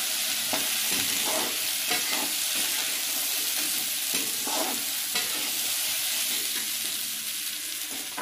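Green peas and potatoes being stirred in a hot pan, a steady close sizzle with periodic soft scraping strokes of the spoon.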